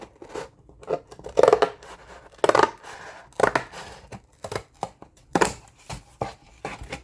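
Old scissors cut through material in several separate crunchy snips, close and clear, spaced irregularly with quiet gaps between them.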